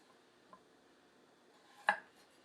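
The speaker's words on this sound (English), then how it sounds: "it is cutting through this carrot like it's not even there" A handmade Japanese nakiri knife slicing through a carrot: a faint light tap, then one crisp, quick chop against the board, all very quiet with no talking.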